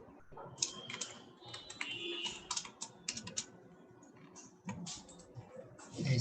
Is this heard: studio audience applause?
no